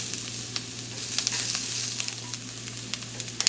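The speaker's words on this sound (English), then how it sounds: "I've been just tossing and sauteing the rice and the vegetables and the smoked sausage" Rice, vegetables and smoked sausage sauteing for Louisiana jambalaya, a soft continuous sizzle broken by scattered clicks of a utensil tossing the pan, over a low steady hum.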